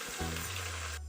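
Onions fry in a pan as chilli is tipped in, a steady close sizzle with a brief low hum partway through, no talking.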